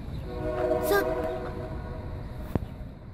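A passing train sounds a loud, sustained horn with layered tones, then rumbles on under steady rail noise with a sharp clank near the end, heard near the route to a meat market.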